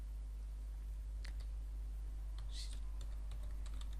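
Light clicking keystrokes on a computer keyboard come in short bursts over a loud, constant low electrical hum.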